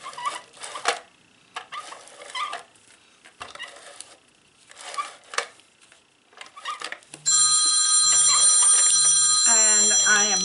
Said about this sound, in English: I am very sorry about my phone going off there.